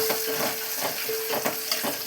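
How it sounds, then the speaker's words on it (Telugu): Moong dal tempering crackles in hot oil, a close, even sizzle with small rhythmic pops and stirring, plus a faint steady tone in the background and no talking. "పప్పు తాలింపు వేస్తున్నాను."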